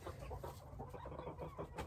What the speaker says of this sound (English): Important time to get the chickens used to each other, mingling so that they don't attack each other